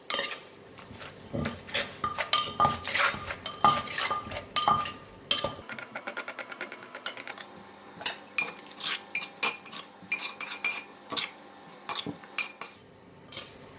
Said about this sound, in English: Once I put in the papaya, right, just lightly stir.